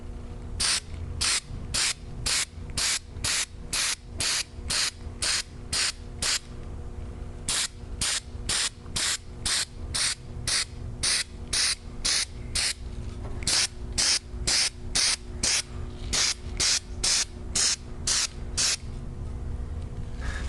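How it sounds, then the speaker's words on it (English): Weld-through primer sprays onto a first-generation Camaro frame section in a steady rhythm of roughly thirty short, hissing bursts, each cut off cleanly, close and fairly loud over a low background hum. "spray a couple of coats of our favorite welding stuff, our weld through primer"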